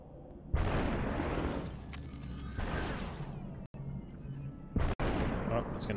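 Gunfire in the stylized shooter SuperHot: a few loud, sharp shot bursts with shattering, crunchy tails, separated by brief dead-silent gaps, heard close and punchy over the game's ambience.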